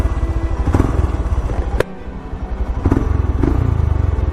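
Royal Enfield Himalayan motorcycle fitted with a Powerage aftermarket exhaust, idling close by with a loud, steady thumping pulse, a few sharp revs and clattering blips breaking the rhythm.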